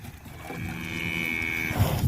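A cow on winter grazing gives one long drawn-out moo outdoors in a field, moderately close over low background noise.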